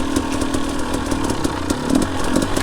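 A hard enduro dirt bike engine revs steadily at close range, its harsh buzzing drone continuous with small surges throughout, before a midweek ride on fresh tracks.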